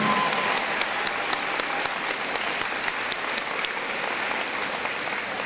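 Audience applause at a high school senior convocation, steady sustained clapping from a large crowd, fairly loud and continuous throughout.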